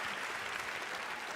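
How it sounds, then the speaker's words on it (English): A comedy audience cheers and applauds throughout, a dense, steady wash of clapping and crowd noise with no voice standing out. "I love how like the crowd's cheering."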